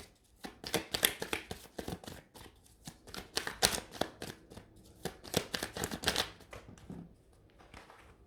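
A deck of oracle cards riffles and slaps in rapid bursts of papery flicks, then the cards tumble and scatter, close and fairly soft.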